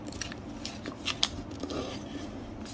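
Crisp, crinkling rustle of colored origami paper being creased and folded into a basket, a steady close-up crackle with a few sharper snaps.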